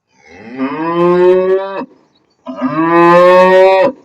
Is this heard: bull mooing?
yes